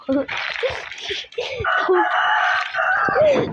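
Loud, busy chicken clucking and crowing-like calls in Roblox fill the clip almost continuously, with a sharp squawk near the start.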